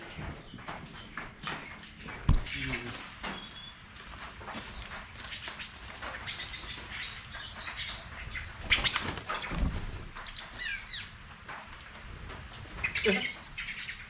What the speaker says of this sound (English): Birds are going crazy.